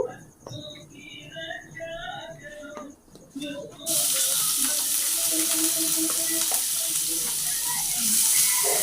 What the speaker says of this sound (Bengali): পেঁয়াজটা প্রথমে একটু ভালো করে ভেজে নিতে হবে।